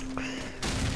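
M4 rifle fire in Call of Duty 4, a sudden loud burst of shots in the final half-second after a quieter stretch of in-game ambience.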